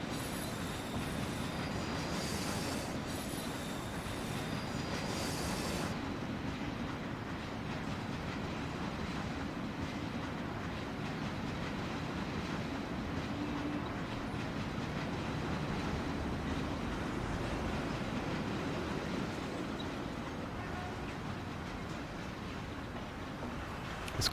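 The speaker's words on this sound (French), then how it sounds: "C'est la première fois qu'on prend le métro dans ce jeu." A metro train ride in the video game Mafia: a steady, loud rumble of wheels on rails with high squealing from the track, continuous throughout.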